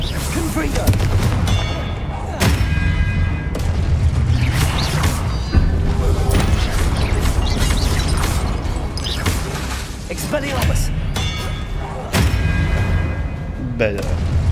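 Expelliarmus and Confringo spells cast in Hogwarts Legacy: loud magical blasts, booms and crashes burst out in quick succession over a constant bed of game effects, with voices speaking throughout.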